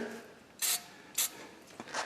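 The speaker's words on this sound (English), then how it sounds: "we'll spray a little bit of the old cleaner here." Brake cleaner sprayed onto the rear caliper of a 2019 Ford Edge, heard as two short hissing bursts followed by softer spritzes, close and loud with no talk.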